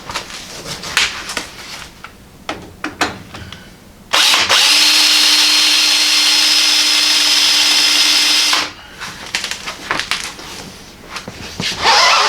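A power drill bores a hole in a stainless steel frame spreader bar for a Model A hot rod shop truck, a loud steady whine lasting several seconds between quieter shop handling noises.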